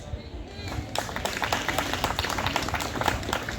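Students in a school gathering clap together, a dense burst of hand claps starting about a second in and continuing steadily, close and busy, with crowd noise underneath.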